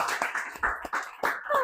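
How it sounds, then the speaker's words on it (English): Scattered hand claps from a small audience welcoming a speaker onto a stage at an event in Ubud, a handful of sharp, uneven claps close by over a brief moment. "So please join me in giving a big round of applause to Susanna."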